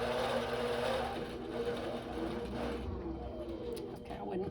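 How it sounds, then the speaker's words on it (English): A Quiltpath computerized quilting machine stitches out a quilt, giving a steady, continuous mechanical whir and hum at moderate level throughout, with faint background noise and no talking. "I'm going to push sew. And now watch it stitch out."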